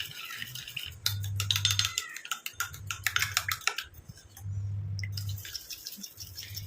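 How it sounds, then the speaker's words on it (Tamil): Hair dye paste mixed with coffee powder is stirred in a bowl, the utensil scraping and clinking in close, irregular bursts over a steady low background hum. "இந்த மாதிரி நல்லா கலக்கும் பொழுது தான் மிக்ஸ் ஆகும்"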